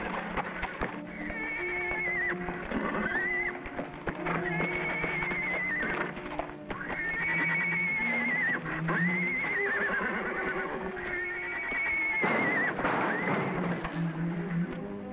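Repeated loud horse whinnies ring out one after another, with clip-clopping hooves and a busy background.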